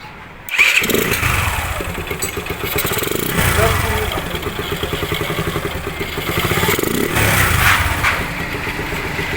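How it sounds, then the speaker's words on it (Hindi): A Suzuki GR 150 motorcycle engine cranks and catches after tappet adjustment, then settles into a steady, rattling idle that rises and falls slightly, with voices talking over it. "अब इस बाइक के हमने टैपर कर दिए हैं, तो इसको एक बार हम स्टार्ट करेंगे"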